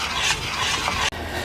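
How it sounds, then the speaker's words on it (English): A spoon stirring peanut butter and vanilla extract in a bowl, soft scraping and thick sticky swishes close by, ending with a brief knock. "Now we need to stir in the peanut butter and the vanilla extract with a spoon till it's completely incorporated."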